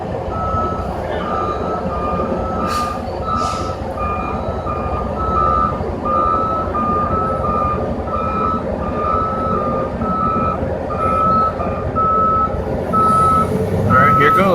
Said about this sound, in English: and the dump truck is backing up to it.